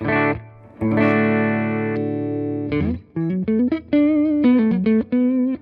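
An electric guitar with humbucker pickups plays through a Fender Twin Reverb Tonemaster on channel 1 with reverb: a few ringing chords sustain, then a quick run of separate plucked notes, loud and clear with no talking.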